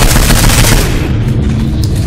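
A red barrel blowing up in Saints Row IV: one loud, close, bass-heavy boom right at the start that rolls off into a rumbling decay.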